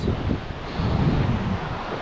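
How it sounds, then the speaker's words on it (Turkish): Light sea breeze and waves on the coast in February ahead of a boat fishing trip, steady wind buffeting the microphone over a low, rolling surf rumble. "Çok hafif de esinti var fena değil diyebiliriz yani."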